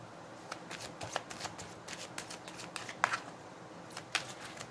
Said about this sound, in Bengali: দুটো ট্যারোট কার্ড মিলিয়ে করা হয়েছে এটা।